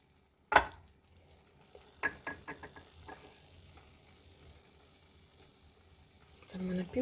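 A spoon scrapes and knocks around a pan as a thick mushroom mixture is stirred, with faint sizzling, a sharp clank at the start, and brief voice near the end.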